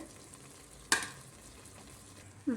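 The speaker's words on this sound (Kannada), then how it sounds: "ಇವಾಗ ನಾನು ರೈಸ್ ಮಾಡಿ ಇಟ್ಕೊಂಡಿದ್ನಲ್ಲ ಅದನ್ನು ಇದರಲ್ಲೇ ಹಾಕ್ತಾಯಿದ್ದೀನಿ" Cooked rice is tipped into chicken dum biryani masala in a pot. One soft, close thud lands over a quiet low sizzle, and a faint second knock follows near the end.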